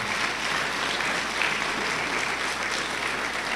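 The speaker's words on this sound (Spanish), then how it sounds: "Dele fuerte el aplauso al Señor." A congregation applauding during a church service, a dense, steady wash of clapping that holds at an even level throughout without a break.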